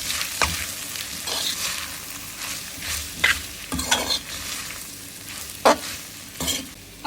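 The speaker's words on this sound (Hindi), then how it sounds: "1 टेबलस्पून इसमें डालेंगे सोया सॉस और इसको हम अच्छी तरह कोट कर लेंगे" Vegetable spaghetti gets tossed with soy sauce in a hot pan, a steady sizzle punctuated by repeated scraping and clinking of a utensil against the pan at irregular intervals, close and fairly loud, with no speech.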